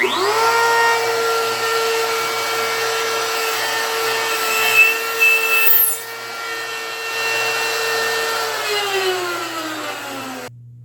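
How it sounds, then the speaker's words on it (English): A router with a 1/2 inch straight bit runs steadily as it plunges and cuts a hole in a wooden pivot arm, a loud constant whine with a brief rougher cutting stretch midway, then spins down and stops. "I'll turn it on and lower it and let the bit cut a 1/2 inch hole in the pivot arm."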